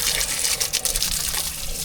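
Water gushes out of a broken drain at a house extension building site in a loud, continuous splashing rush, heard close and alone.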